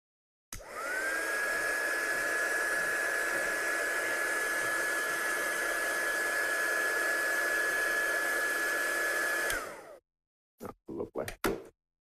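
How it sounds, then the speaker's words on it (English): A heat gun blows hot air over a handmade watercolour card for about nine seconds, a loud steady whooshing hiss with a fixed whine, then switches off, followed by a few quick clicks and bumps. "I'm going to give this a quick blast with a heat gun just to make sure it's completely set as well."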